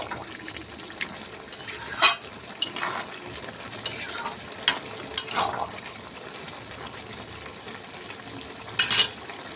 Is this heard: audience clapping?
no